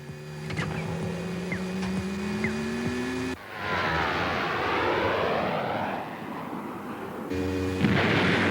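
Missiles launch in an animated space battle, heard as a loud, rushing roar and whoosh with engine-like droning, shifting midway into a broad sweeping blast before a fresh surge at the end.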